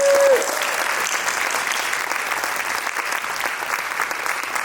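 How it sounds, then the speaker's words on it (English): Sustained applause from a gala audience for speakers after a fireside chat, steady and fairly close, filling the room throughout with a brief tone at the very start. "Let's give another round of applause to"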